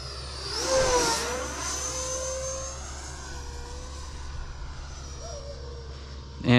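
An E-Flite Viper 90mm electric ducted-fan RC sport jet flies past at sunset, its whining fan rising in pitch as it approaches, then sweeping down and holding a steady loud drone, with a brief pitch change near the end.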